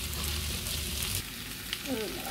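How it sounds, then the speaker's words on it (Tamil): Green chillies and capsicum fry in hot oil for Sri Lankan chicken devil. A loud, dense sizzle fills the short moment, with a faint voice briefly at the end. "குடகு மிளகாய் எல்லாத்தையும் போட வேணும்."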